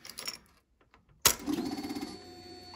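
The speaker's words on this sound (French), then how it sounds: "De toute façon, vous allez entendre la moto." A 2002 Suzuki GSX-R 750 motorcycle fires up after a few faint clicks of silence, its engine catching abruptly and settling into a close, steady humming idle.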